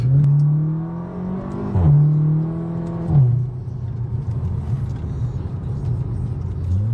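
A tuned Seat Leon Cupra 2.0 with 350 hp and a Stage 1 remap accelerates uphill with four people aboard and the air conditioning on. The engine drones loudly, rising in pitch through two gear changes, then settles into a steadier rumble.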